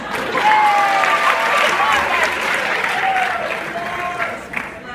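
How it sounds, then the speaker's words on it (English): High school talent show audience applauding student government volunteers, loud full-room clapping with whoops and cheering voices, sustained and gradually easing. "So give them a round of applause"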